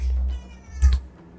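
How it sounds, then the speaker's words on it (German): A house cat gives one short, close meow over a low rumbling background hum. "Meine Katze ist da."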